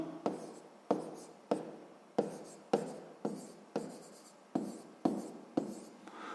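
Pen strokes on paper as a date is written by hand in a fifth-grade maths exercise book, about ten short scratchy strokes in a steady rhythm, each a sharp onset that fades quickly, close and clear with no talking.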